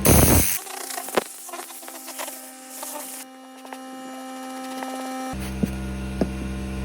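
An air compressor blows steadily through a rug during pre-vacuum cleaning, a continuous airy hiss with a low hum that carries on with a short break and a few small knocks, fairly close and without talk.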